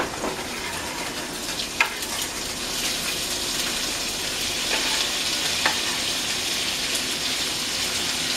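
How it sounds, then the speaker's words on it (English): Chopped onion sizzles and fries steadily in a hot pan for a ground beef chili, a dense continuous crackle with a few sharp clinks of a utensil stirring; no one speaks. "Let's put our onion in here."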